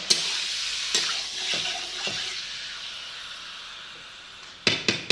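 Chicken pieces sizzle in a pan with a continuous hissing fry, broken by several sharp clacks of stirring or utensil knocks, the last ones clustered near the end.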